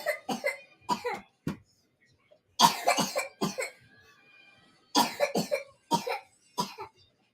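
Person coughing repeatedly in several harsh bursts with short pauses between them, close and loud indoors, no speech.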